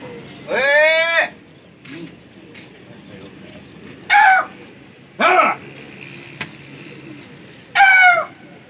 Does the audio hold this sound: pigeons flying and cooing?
yes